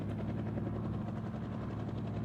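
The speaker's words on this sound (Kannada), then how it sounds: "ಓ ಈ ಟೈಮ್ ಹೆಲಿಕಾಪ್ಟರ್ ಹಾರ್ಸಕ್ ಬಂದ್ ನೋಡ್ರಿ ಗೈಸ್, ಕ್ರೇಜಿ" A helicopter in the Indian Bike Driving 3D video game gives a continuous loud rotor drone with a steady, even chop that holds for the whole stretch.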